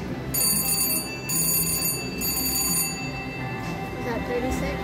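A bell on a slot machine rings in three bright, insistent bursts, each lasting under a second, over a busy background hum of casino machines.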